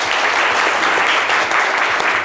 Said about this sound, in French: Ses supporters, applaudissez.